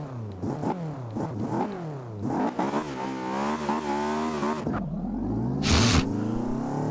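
A car engine in the Forza racing game revs hard at the launch, rising and falling through repeated gear pitches. The sound is loud and close, with a brief whoosh near the end.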